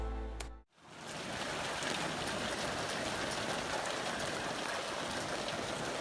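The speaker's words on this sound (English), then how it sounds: "But it is raining!" Steady rain in British Columbia hisses and patters continuously after a brief cut at the start, a dense even wash of falling water.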